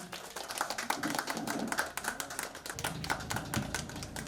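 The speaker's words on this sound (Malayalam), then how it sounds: "എല്ലാവരും ഒന്ന് കൈയടിക്കണം" An audience at a school felicitation event for students, with alumni, local residents and families present, claps steadily in a dense, continuous patter of many hands, heard from across the room at moderate loudness.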